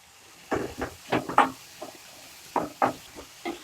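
Intermittent scraping and clinking of a spoon stirring banana stem in a pan, with short bursts separated by pauses and a faint sizzle underneath.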